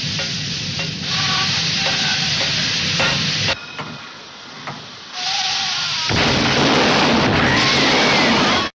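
A ship's steam boiler bursting, heard as heavy roaring, crackling bursts with a brief quieter lull in the middle before the blast surges back loud and sustained, with no speech.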